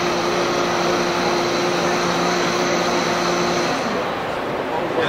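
A Vitamix 780 touchscreen blender creams eggs, oil and sugar at a trade show, a loud, steady high-speed motor whine that holds level before winding down near the end, with speech over it.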